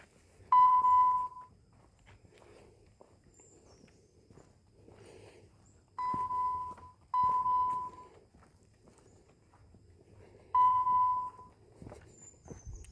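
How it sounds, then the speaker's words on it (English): A device gives short electronic beeps at intervals, four tones spread across the stretch, with faint footsteps and rustling in between. "so it'll beep when you're close to it"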